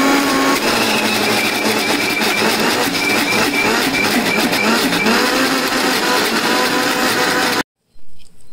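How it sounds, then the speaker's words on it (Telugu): Kitchen mixer grinder whirring steadily and loudly as it grinds leftover cooked rice with curd and salt, running continuously for several seconds before abruptly switching off. "ఇది గ్రైండ్ చేసుకుంటాను ఫస్ట్."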